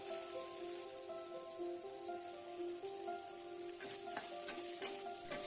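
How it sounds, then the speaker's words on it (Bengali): Shrimp frying in hot oil with salt and turmeric, a steady soft sizzle and crackle, close but fairly quiet, with a few sharper pops near the end. "প্রথমে চিংড়ি মাছগুলো নুন হলুদ দিয়ে ভেজে নিই।"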